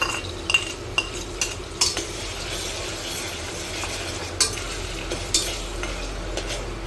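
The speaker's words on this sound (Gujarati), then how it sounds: "એને થોડી વાર સાતરી લઈશું આપણે।" Eggplant and potatoes sauté in a pan with ginger, garlic and chili paste, giving a quiet sizzle broken by repeated light clinks and scrapes of a stirring spoon.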